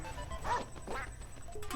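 Cartoonish duck quacks from the Nintendo video game Duck Hunt, two short nasal calls close together over a steady synthetic backdrop, fairly loud and alone with no talking.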